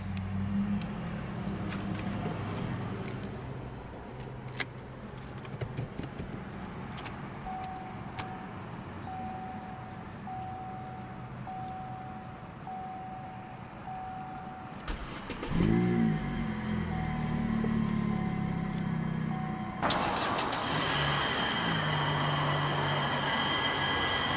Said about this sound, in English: let's go ahead and start the engine.